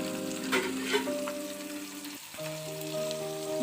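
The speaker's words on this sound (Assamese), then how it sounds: "চিটিকি আছে, সাৱধানকৈ লাহে লাহেকৈ দিব।" Hot oil spits and sizzles steadily as green chilies are fried, with garlic, ginger and onion also going into the pan, a close, continuous crackle with no talking.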